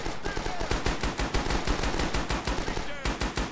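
Rapid, steady automatic fire from an M1918 BAR in the World War II shooter Rising Storm, loud and close, a continuous rattle of shots running for several seconds with a brief break near the end.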